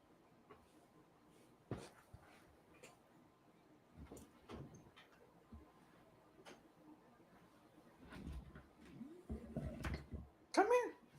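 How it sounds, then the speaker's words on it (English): A pet dog named Pia whimpers and yips indoors in soft, scattered bursts over a low background. The sounds grow louder and more frequent toward the end, mixed with faint knocking and a little nearby talk. "I think my dog's here."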